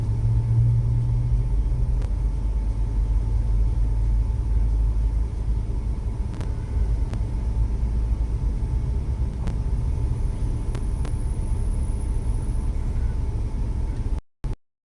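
Steady low rumble of dense, backed-up traffic on the Florida Turnpike, a continuous wash of engine and tire noise with occasional faint clicks before cutting off abruptly.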